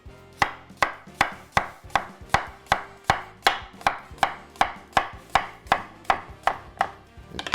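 Food is sliced thinly with a sharp kitchen slicer in a steady, even rhythm of about fifteen crisp cuts. The close, clean knocks ring out on their own with no talk.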